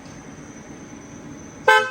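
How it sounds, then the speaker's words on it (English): A 2024 BMW X7 xDrive40i gives a single short, loud electronic beep as its owner walks away and it auto-locks, sounding abruptly at the very end after a steady low background hum. "Walk a little too far away from the car and you'll get that beep sound"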